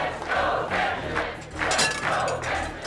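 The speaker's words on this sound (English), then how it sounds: "I can hear 200 people cheering my name in the background" A crowd of about 200 people chants and cheers a chef's name in rhythmic waves, loud and close, with repeated shouted bursts rising and falling in a steady beat.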